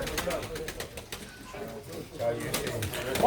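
Soft pigeon cooing mixed into a busy, chattering pigeon auction background with voices nearby.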